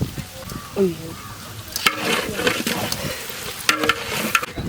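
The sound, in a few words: rabbit meat frying with biryani masala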